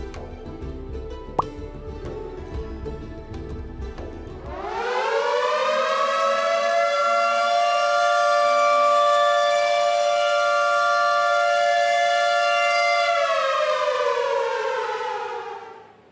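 A loud air raid siren winds up, then holds a steady, piercing wail with rich harmonics before tapering off, preceded by a few seconds of low background noise.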